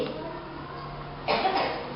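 Quiet room tone, then a single short cough bursts out near the end.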